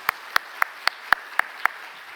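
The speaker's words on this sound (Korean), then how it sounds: "하나님께 영광의 박수 올려드리겠습니다." Hand clapping during a church worship service, seven sharp, evenly spaced claps in a steady rhythm over about two seconds, crisp and close, followed by quiet.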